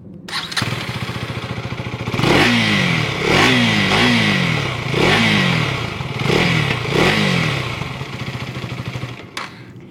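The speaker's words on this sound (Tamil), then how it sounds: "இந்த வண்டியோட எக்ஸாஸ்டோட நோட் நீங்கள் கண்டிப்பாக கேட்டாகணும்." A 2025 KTM Duke 250 with an underbelly exhaust is blipped repeatedly, giving five or six loud, sharp throttle revs that each rise and fall back to a burbling idle, close up with no voices.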